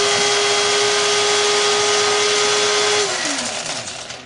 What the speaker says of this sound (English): I'm going to be using coarse with 4 cups, which is the smallest amount that you can do with this coffee grinder.